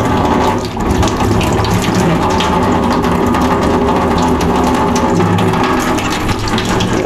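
Water gushes hard through a household filter in a steady, loud, continuous rush that carries a faint mechanical rattle, with no talking.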